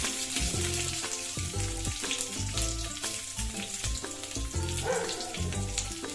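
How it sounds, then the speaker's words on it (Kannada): Chopped onions and curry leaves fry in a pan with a bright, steady sizzle and crackle, close by, while rhythmic tonal sounds run underneath throughout. "ಈರುಳ್ಳಿನ ಚೆನ್ನಾಗಿ ಫ್ರೈ ಮಾಡ್ಕೊಳ್ಳೋಣ."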